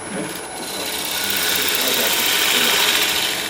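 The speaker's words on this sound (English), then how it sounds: "I'm using a bowl gouge here" A bowl gouge cutting wood on a spinning lathe, a loud steady rasping hiss that swells slightly as the cut continues.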